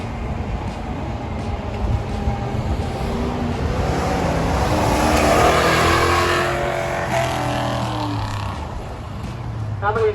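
A 1968 Dodge Charger accelerates through an autocross course at a car show, its engine rising and falling in pitch as it revs and shifts, growing louder near the middle before easing off, with an announcer talking over it.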